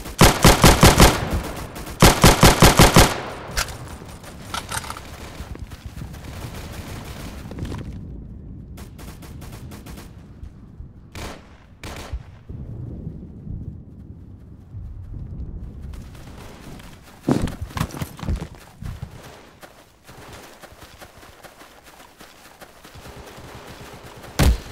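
M2 carbine fire in an online shooter game rattles in dense automatic bursts, loudest at the start and again later, with scattered single shots and distant gunfire between them.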